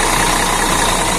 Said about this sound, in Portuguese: É um O500 RSD de 360 cavalos com 6 cilindros em linha.